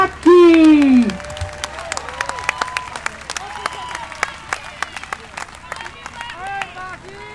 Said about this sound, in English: start clapping your hands right now for Baki, Baki, Baki.